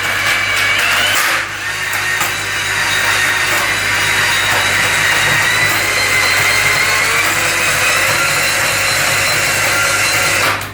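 Ryobi 18V cordless drain auger running its cable through gunk built up in a sink drain, giving a steady, loud motor whir with scraping texture close by.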